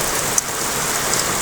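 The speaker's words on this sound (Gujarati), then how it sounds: "જુઓ મિત્રો વરસાદ અત્યારે ખેતરો વાડીમાં વરસાદ બહાટી પડે છે." Heavy rain pours steadily over open farm fields, a dense continuous hiss with one brief louder patter near the start and no voices.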